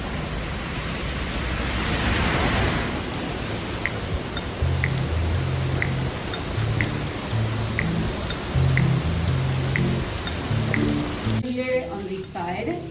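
Rain falls steadily in Buenos Aires, a broad hiss with scattered drips and taps on nearby surfaces, while someone talks over it.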